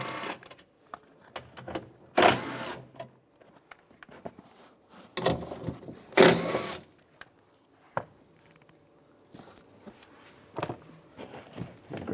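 Nuts on a 2003-2010 BMW X3 door being removed with a 10mm socket, heard as a few sharp, close ratcheting clicks and metallic taps spread among quieter handling noises.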